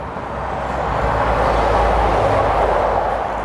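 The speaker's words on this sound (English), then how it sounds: "Perfect timing for the lorry to go past. It's a main road there" A lorry passes on a main road outside a house in Leeds, a loud, close, broad rumble and roar that builds toward the middle and then fades slightly, heard outdoors with no talking.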